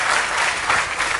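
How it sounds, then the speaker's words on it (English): Steady applause from a political audience, dense and even clapping throughout with no break. "So another round of applause."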